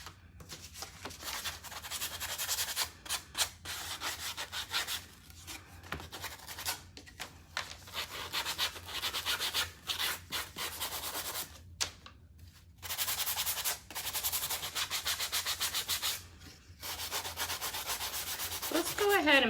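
Sandpaper rubbing along the wooden sides of a signpost, close and steady strokes in repeated bursts with short pauses between them.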